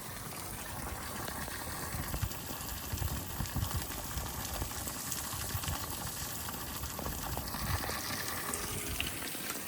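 Clean water gushes steadily from a pipe just after a pump is switched on at a house under construction in the Philippines, a loud continuous rushing and splashing close by for the whole stretch.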